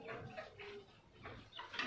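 A Kuroiler chicken on a farm clucks softly in short, low bursts, fairly distant and faint against a quiet background.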